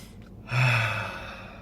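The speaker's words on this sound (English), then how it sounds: "Take a deep breath again." One deep, drawn-out breath, close and clear, rises then slowly eases off, with no talking.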